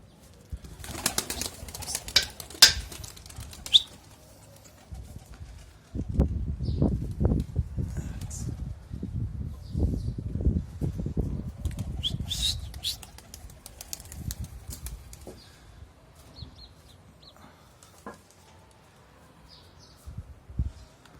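Pigeons flutter and flap their wings in bursts, with soft cooing and background chatter, over a fairly steady low rumble.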